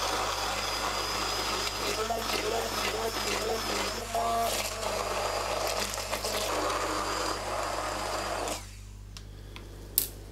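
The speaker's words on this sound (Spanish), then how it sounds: "Con una batidora trituramos los ingredientes." A handheld blender puréeing lemon segments and peel with sunflower oil and eggs for a lemon sponge cake, a steady whirring drone that cuts out near the end, leaving a quiet tail with one small knock.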